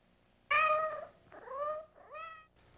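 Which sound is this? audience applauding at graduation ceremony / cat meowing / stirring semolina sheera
cat meowing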